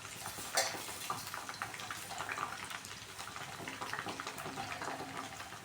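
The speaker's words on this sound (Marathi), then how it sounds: "मेथी दाणे टाकून घेऊ." Fenugreek seeds dropped into a pot and stirred with a spoon while making homemade Ayurvedic hair oil, giving a steady run of light metallic clinks and scrapes at close range with no talk.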